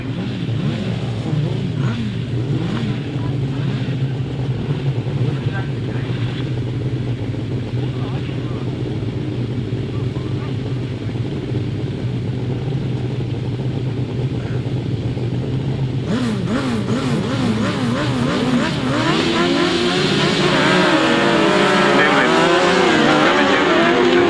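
1000cc sidecar outfits racing in a grasstrack meeting, heard as a loud, steady roar of several engines that swells as the machines rev and pass close, with an announcer talking over the noise throughout.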